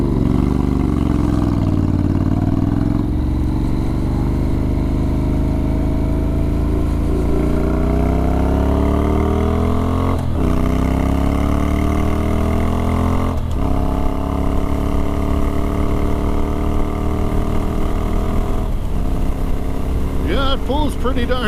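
A Honda CTX700 motorcycle engine pulls hard while accelerating on the road, its loud, close whine climbing in pitch again and again as it shifts up through the gears over rushing wind.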